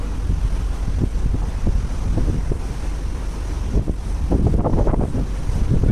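Wind and sea waves on board a vessel crossing the Arabian Sea toward the Indian Ocean, a loud, constant rushing wind buffeting the microphone over a surging swell, with no speech.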